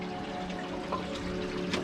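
River water rushing through a dark gorge on the Senda del Valle Invisible trail near Llanes, Asturias, a steady broadband wash that continues without pause, close and even, with no voices.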